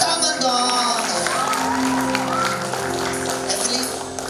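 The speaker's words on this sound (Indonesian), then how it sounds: "Tepuk tangan dong." Applause and cheering from a crowd of guests at a wedding ceremony, a steady wash of clapping with whoops and shouts mixed in, loud and close throughout.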